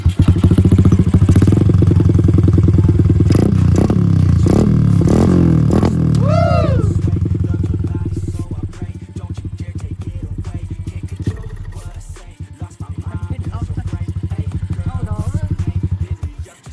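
Honda Wave 125 converted into a dirt bike, its engine running loud and close with a steady idle and a few sharp revs early on, then settling into an even rumble.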